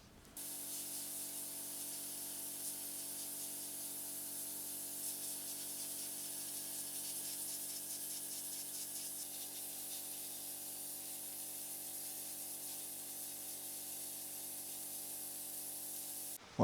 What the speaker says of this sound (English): I thought I might have a go at sandblasting that and powder coating it